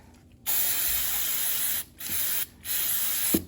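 Three hissing bursts of cleaner from a spray bottle onto a magic eraser, the first long and the next two shorter, each cutting off sharply into quiet.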